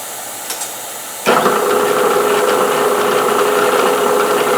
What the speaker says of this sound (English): we'll turn on our mister. Get that going. I've got the cutter head set at 600 RPM.